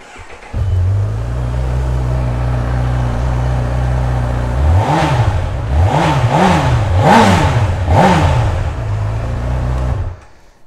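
A white 2020 Honda CB1000R Plus motorcycle starts and settles into a loud, close, steady idle, then is blipped through four or five quick throttle revs before dropping back to idle and shutting off.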